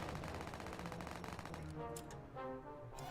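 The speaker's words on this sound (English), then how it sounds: "I'm providing machine gunner support." Rapid machine gun bursts in a combat video game, a dense rhythmic rattle that fills the first half and then gives way to lighter gameplay sounds.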